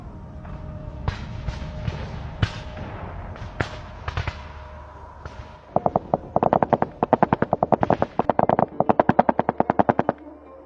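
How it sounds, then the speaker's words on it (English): Suppressing gunfire rings out during an assault on trenches, starting with scattered single shots and then turning into rapid bursts of automatic fire with sharp, repeated cracks. "Simultaneous fire suppression is needed so that the infantry can enter the trenches."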